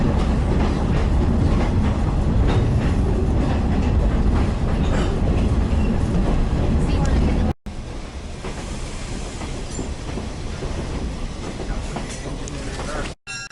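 A heritage Black River & Western train rumbles steadily along the rails with rhythmic clacking wheels, close and loud throughout.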